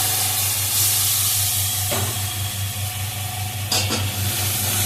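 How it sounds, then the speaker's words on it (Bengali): Spice paste of turmeric, ground cumin and nut paste sizzles steadily in a hot pan while being cooked down for a live koi fish curry. The hiss is close and continuous, with a low hum underneath and a couple of brief stirring scrapes. "আর মশলাটাকে ভালো করে কষিয়ে"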